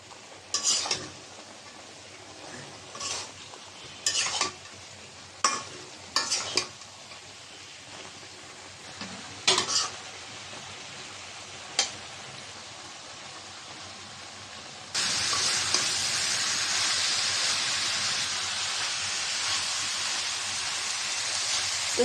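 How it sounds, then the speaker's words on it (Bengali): A Bengali curry of beans, eggplant, potato and radish is stir-fried in a pan, with a quiet sizzle and a series of spatula knocks and scrapes, then a louder steady hiss takes over near the end. "সবজিটা ভালো করে কষাই নেব। নাড়াচাড়া দিয়ে দিলাম,"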